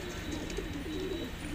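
Saharanpuri pigeons coo softly and repeatedly, a low, rolling murmur close by against a steady background hum.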